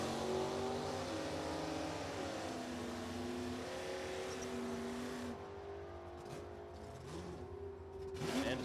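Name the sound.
drag racing cars, Camaro and Firebird launching down the strip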